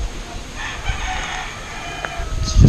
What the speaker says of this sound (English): There's chickens pecking at my feet.